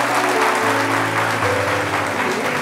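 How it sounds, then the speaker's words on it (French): A studio audience on a French television talk show applauds in a dense, loud burst of clapping with steady musical tones underneath, brief and continuous. "permettez-nous de marquer le coup et de vous offrir ces applaudissements"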